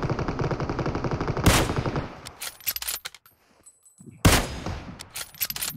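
Bursts of automatic gunfire in PUBG Mobile ring out loud and close, two heavy volleys separated by scattered single shots and a brief quiet gap, with no talk over them.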